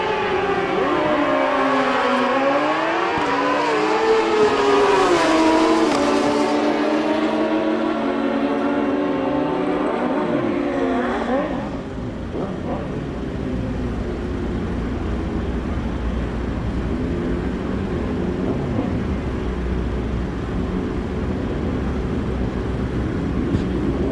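A 2006 Kawasaki ZX14 motorcycle makes a drag racing run at the Mancup World Finals. Its engine screams upward through repeated rising sweeps broken by quick gear shifts, then fades into distant rumble.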